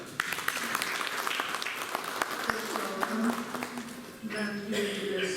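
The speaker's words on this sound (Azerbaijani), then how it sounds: "Yəni, alqışlayaq." An audience in a hall breaks into sustained applause, a dense patter of many hands with a few sharper claps, fading slightly before a voice begins near the end.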